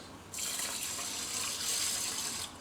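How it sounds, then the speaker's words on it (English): Water pours steadily from a tap onto rice being readied for a rice cooker, a soft, even splashing stream that starts abruptly, runs for about two seconds and then stops, with no talking. "So I need to add 300 grams of water"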